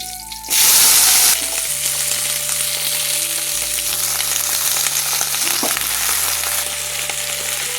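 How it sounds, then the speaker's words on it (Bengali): Cumin seeds and green chilies hit hot oil in a wok and burst into a loud, crackling sizzle that settles into a steady, continuous frying hiss, with no one talking. "জিরে আর কাঁচা লঙ্কা ফোড়ন।"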